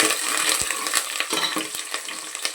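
Curry leaves and mint frying in hot oil for a village-style Natu Kodi chicken curry, a steady close crackling sizzle with scattered scrapes and clicks of stirring and no talk.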